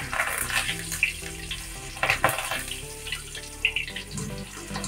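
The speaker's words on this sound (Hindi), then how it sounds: "मेरा मिर्चा और कड़ी पत्ता भी फ्राई हो गया है" Green chilies and curry leaves fry in hot oil with a bubbling, watery sputter and a few sharper pops, heard close over faint background music.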